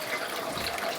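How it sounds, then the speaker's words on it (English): Water is pumped up into a home fish tank, a steady close hiss and gush of flowing water filling the tank throughout, with no talking. "So when the water is pumped up into this fish tank,"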